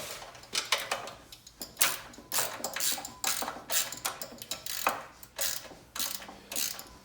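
Ratchet wrench snugging a fuel tank bolt on a Honda GX200 clone go-kart engine, a run of quick close clicking strokes in short bursts, no talking.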